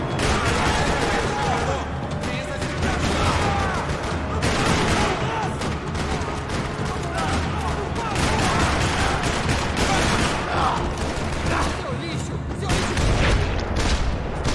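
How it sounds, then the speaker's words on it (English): Sustained gunfire from a firefight in the video game Max Payne 3, set in a parking lot: dense, continuous rattling bursts and booms fill the whole stretch, loud and close, with faint game voices mixed underneath. "Another parking lot rattling with gunfire."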